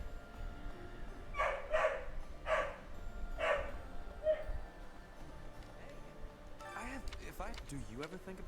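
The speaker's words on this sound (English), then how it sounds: "Usually she only starts barking like this when somebody goes through there and she really wants their attention." A dog barks four or five times in a sharp, regular series, heard at a moderate distance behind a steady background bed, followed by a brief stretch of quieter sound.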